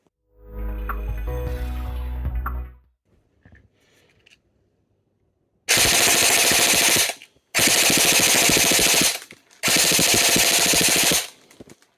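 An E&C 416A5 airsoft rifle fires full auto in three loud sustained bursts of about one and a half seconds each, separated by short gaps, after an earlier unrelated tonal sound and near-silence.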